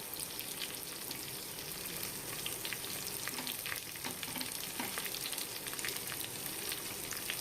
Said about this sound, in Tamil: ஸோ இது பொறுமையாக கிளறி கொடுத்து உப்பு கொஞ்சமாக சேர்த்து நம்ம தீஞ்சு போகாமல் நல்லா நீட்டாக இந்த வெங்காயத்தை வதக்கி எடுக்கலாம்